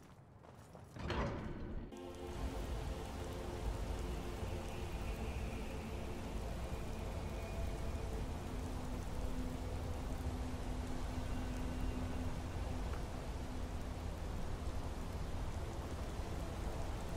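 Steady rain falls in the Skyrim video game, a dense, even hiss that starts after a brief thump and continues unbroken and fairly loud to the end, with no talking.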